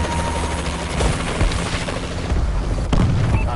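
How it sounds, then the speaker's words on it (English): Enemy missile strike explosions in a Call of Duty Advanced Warfare team deathmatch rumble loudly and continuously, with heavy low booms and mechanical clatter filling the whole stretch. "Enemy missile strikes."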